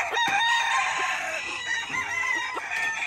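A gamecock crows in a Puerto Rican rooster yard among other fighting roosters, one loud drawn-out crow with clucks and farmyard noise around it, no talking.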